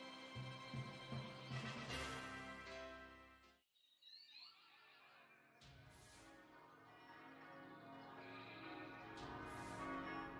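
Church bells in the video game Pokémon Shield ring out over a layered musical backdrop, fading briefly into near silence before swelling again with repeated bright chimes.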